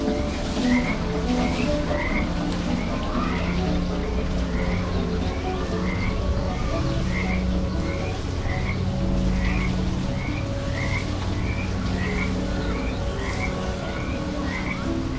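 A chorus of frogs croaks steadily in regular pulsing calls in Monterey, California, layered over a constant outdoor hum, with no one talking.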